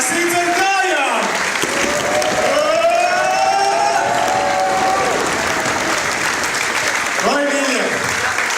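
A crowd at a tavern event claps and cheers loudly and continuously, with whoops and shouting voices rising over the dense applause throughout.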